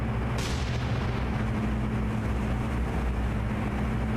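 Naval gunfire striking an enemy ship in the War on the Sea video game: a sharp impact burst near the start over a steady low rumble of engines and sea, sustained and unbroken, with no voices.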